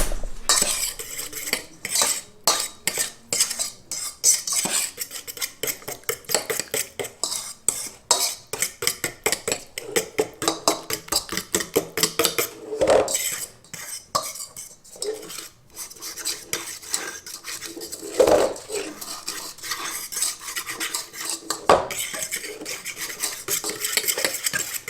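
A spoon stirring a mixture in a pot set to boil, scraping and clinking against the sides in quick, repeated strokes that run for most of the stretch, heard up close and alone.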